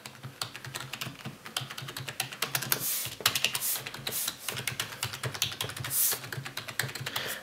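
Steady, fast typing on a Logitech G105 keyboard, a close run of soft, fairly quiet key clicks with a few heavier strokes, no voices.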